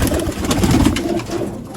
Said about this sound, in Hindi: खाली टेल वाले टैडी कबूतर आ गया